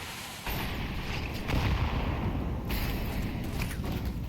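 Molotov and utility grenades bursting in a competitive Counter-Strike match, heard as dense rumbling booms and crackling fire over continuous game noise, with a louder surge midway.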